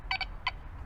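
Quest X5 metal detector giving a target tone: two quick close beeps followed by a single beep, alone over faint background noise.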